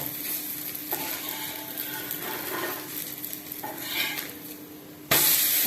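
A raw manathakkali ada dosa fries in oil on a pan, giving a steady close sizzle with soft stirring and scraping. It ends with a sudden louder burst of crackling spitting oil.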